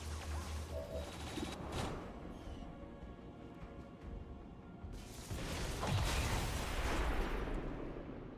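Gunfire and heavy booms from the XCOM 2 War of the Chosen video game, a steady rumble of distant shots and blasts swelling louder toward the end.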